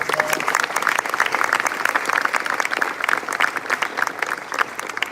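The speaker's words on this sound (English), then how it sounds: "let's give them another round of applause." Audience applause at an opening ceremony for a Texas event at the University of St. Thomas, a sustained, dense crowd clapping at full volume with no talking, continuing steadily throughout.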